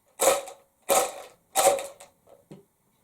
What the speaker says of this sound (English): And buttons make quite a strident sound.